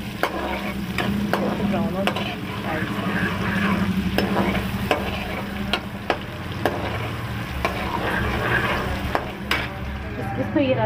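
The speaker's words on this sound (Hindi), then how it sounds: "ये प्याज ब्राउन हो चुका है लाइट से" Onions frying and browning in a pan of hot oil for chana dal, a steady sizzle with repeated scraping stirs throughout, close and even, no voices.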